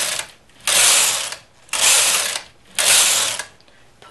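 A knitting machine carriage pushed back and forth across the needle bed while knitting rows, making three loud, evenly spaced ratcheting mechanical sweeps with brief quiet gaps between them.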